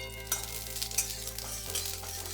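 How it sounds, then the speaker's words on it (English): Roughly cut onion sautéing in half a tablespoon of olive oil for a masala sandwich, a faint steady sizzle with a few soft stirring scrapes and light bumps, close and quiet with no talking. "we are going to add half a tablespoon of olive oil, and then we are going to add the roughly cut onion"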